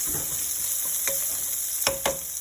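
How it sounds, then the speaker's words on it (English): Onion and garlic powder sizzle in a pan that held browned meat, a steady moderate frying hiss broken by a few sharp scraping clicks as a utensil stirs them, with no talking. "I'm going to add a little onion in the pan that we poured the meat out of."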